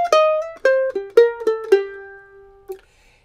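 A western swing mandolin lick: a quick run of bright picked notes descending to a held tone, closing with one last plucked note, close and clear with no talk.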